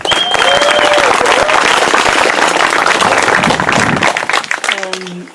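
Loud crowd applause and cheering for a speaker at an outdoor march and rally against ICE in Morgan Hill, California, dense clapping with whistles and voices, tapering off near the end.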